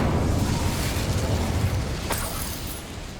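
Incendio fire spell cast in Hogwarts Legacy, a whooshing burst of flame that roars briefly then fades, with a sharp crackle midway, loud and close with no speech.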